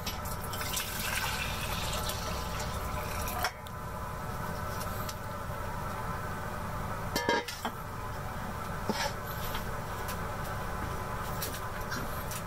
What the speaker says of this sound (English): Just pour this back into the beaker.